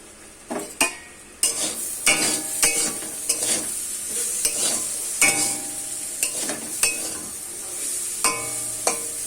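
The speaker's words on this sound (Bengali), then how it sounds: "এখানে হচ্ছে উচ্ছে আলু ভাজা" Sliced bitter gourd and potatoes are stir-fried in a pan, giving a continuous close sizzle. Repeated scraping strokes of a spatula against the metal pan punctuate it at an uneven rhythm, with no voices.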